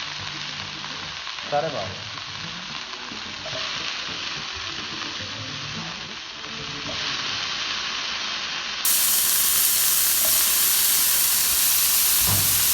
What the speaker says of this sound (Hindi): we have added mushrooms in a pan, little bit saute it